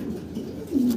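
Roman pigeons coo softly and continuously in a pigeon market, rising into one louder, drawn-out coo near the end before stopping abruptly. No one speaks.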